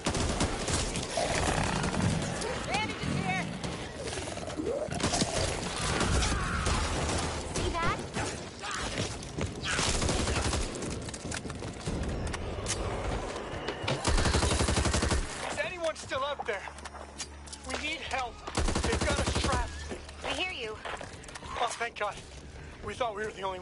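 Rapid crackling bursts of firecrackers in the video game Back 4 Blood, dense and loud, mixed with other game sounds and voices talking throughout.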